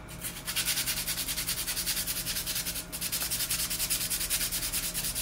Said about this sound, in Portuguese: eu uso essa lixa aqui 180, eu dobro ela aqui em dois só para ficar mais fácil, e aí eu vou passar no cartucho